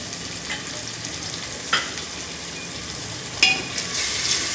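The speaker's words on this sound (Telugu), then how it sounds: "పచ్చివాసన పోయినంత వరకు బాగా ఫ్రై చేసుకోవాలి" Ginger-garlic and garam masala paste frying in a pan for a chicken, prawn and egg biryani, giving a steady soft sizzle broken by a few brief scraping stirs.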